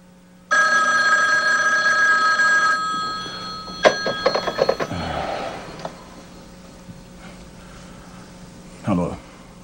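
A telephone rings in an office-style indoor setting, a steady bright electronic trill held for a couple of seconds, followed by handling clatter, a breath and a brief voice at the end.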